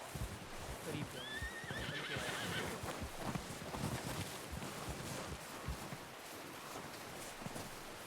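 A horse in Red Dead Redemption 2 lets out a high, wavering neigh early on, with clip-clopping hooves and wind noise running underneath at a faint, distant level.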